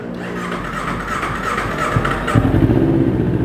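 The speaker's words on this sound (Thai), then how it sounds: "มาพร้อมท่อแต่งทรงอาคาปวิกครับมาฟังเสียงท่อคันนี้กัน" A 2017 Kawasaki Ninja 250 with an aftermarket Akrapovic-style exhaust idles close up, a steady throbbing burble that swells slightly louder in its last second, with no talk over it.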